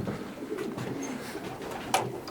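Young racing pigeons coo softly and steadily in a loft, several birds overlapping in a low murmur, with a brief sharper flutter near the end.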